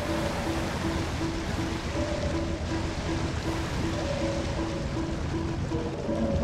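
Heavy water rushing and flooding through a hull breach aboard a submarine in the game Barotrauma, a steady loud roar with a faint repeating alarm tone underneath.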